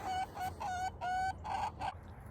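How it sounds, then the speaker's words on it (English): A rooster crows nearby in a series of loud, strained calls, with short gaps between the bursts. "I wonder if that big rooster's messing with Cowboy"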